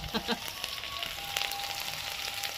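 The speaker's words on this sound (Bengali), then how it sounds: "এগুলোকে ভালো করে ভেজে নেবো, ভাজার আগেই ভাজা হয়ে যাচ্ছে" Chopped green chillies frying in hot oil in a wok: a steady, crackling sizzle with scattered pops. It stays fairly quiet and close throughout.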